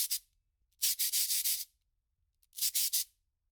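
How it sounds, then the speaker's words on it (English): Sandpaper scrubs the badge off a vinyl Funko Pop figure in three close bursts of quick back-and-forth rasping strokes, separated by silence. "Before I paint anything, I'm sanding off the badge and the name"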